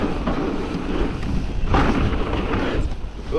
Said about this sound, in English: Ain't gonna lie though, proper windy